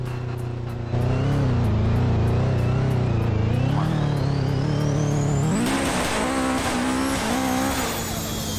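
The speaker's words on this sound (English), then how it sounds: "the turbo noises have to be the best thing ever" A Subaru Legacy tuned to 2000 hp in a Roblox driving game roars under steady throttle as a turbo whine climbs independently of the engine note, then surges again with a rising, tire-squeal-like scream, loud and continuous.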